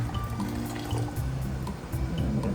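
Hot water poured from glass canning jars back into a boiling water-bath canner, splashing and trickling in uneven bursts, close and fairly faint with no talking.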